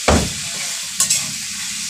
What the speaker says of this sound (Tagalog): So yun guys, hinahalo-halo ko muna.